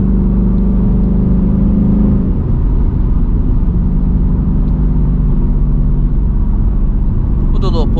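A manual S650 Mustang GT pulls hard, its engine a loud, sustained low rumble that climbs through the revs inside the cabin. A brief shift-like dip comes near the start.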